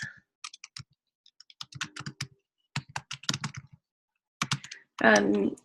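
Computer keyboard typing comes in short bursts of clicks spread across the stretch, with a voice talking in between and a louder, different noise at the end.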